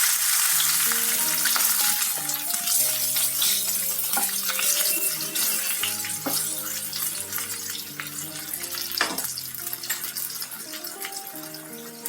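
Bay leaves and whole spices crackling in hot mustard oil for aloo sabji, a steady close sizzle with occasional sharp pops and scrapes running unbroken for several seconds.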